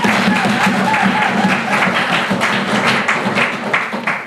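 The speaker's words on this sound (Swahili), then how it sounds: "Tumuongeze mama makofi mengine zaidi" Crowd applause fills a religious leaders' gathering in Tanzania, a dense and steady patter of many hands clapping close by for about four seconds, with no speech over it.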